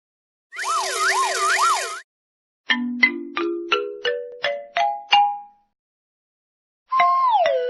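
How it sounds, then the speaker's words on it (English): A fire engine siren wails in a loud rising-and-falling pattern, followed by a rising series of short chime-like tones and a final falling horn-like tone, all clean and close. "Fire engine."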